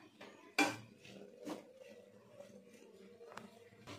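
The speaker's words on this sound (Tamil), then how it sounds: "இப்போ பாலக்கீரை ஆட் பண்ணிக்கலாம். இதில் நல்லா மிக்ஸ் பண்ணிக்கலாம்." Spinach being stirred into kootu in a pan, with a few sharp clanks and scrapes of a utensil against the pan, one louder knock near the start, over quiet background.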